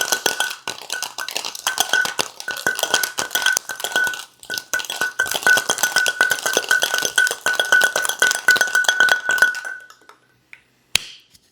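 Ice rattles hard inside sealed metal cocktail tins being shaken for a hibiscus Moscow mule, a fast, loud, continuous clatter lasting about ten seconds before it stops and a couple of last clinks follow.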